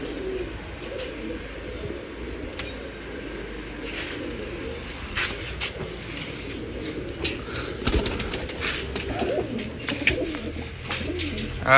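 Pigeons in a loft, kept as breeding pairs, coo steadily throughout, with soft chirps and occasional wing flutters mixed into a continuous, fairly close murmur; no one speaks.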